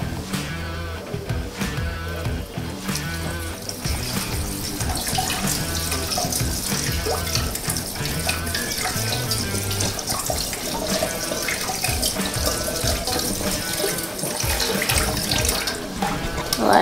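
Cooked spaghetti is rinsed in a colander under a running kitchen tap. Loud, steady splashing and gurgling water fills the whole stretch, with irregular changes as the pasta is moved beneath the stream.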